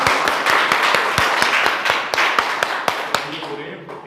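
Applause from an audience at a school result celebration for Class 10 and 12 arts students, with dense claps, some sharper near hands standing out, fading toward the end.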